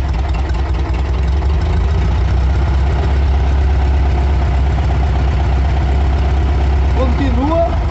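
A car engine idles steadily at 1000 RPM during an ignition timing check, producing a loud, constant low hum with a brief squeaky whine near the end.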